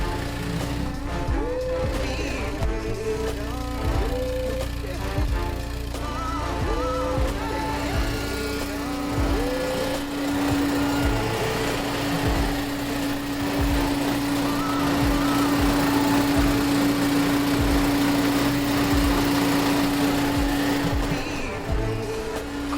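A BMW E30 engine runs on its first start in eight years after electrical and fuel repairs, idling steadily with a rough, uneven mechanical beat close by, accompanied by a constant tonal hum.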